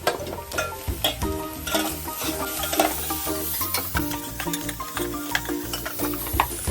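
Onion, garlic, ginger, green chilli and curry leaves sizzle in a pan for a chicken curry while a utensil stirs and scrapes them in irregular clanks and taps. The sound is close and busy, with no talk.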